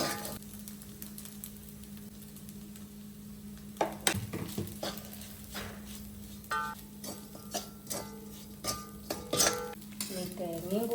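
Food stirred in a pan with a spoon, producing repeated scraping and clinking strokes at an uneven pace over a soft steady background hum, fairly close.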